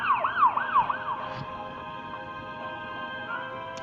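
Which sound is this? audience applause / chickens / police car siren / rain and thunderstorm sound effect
police car siren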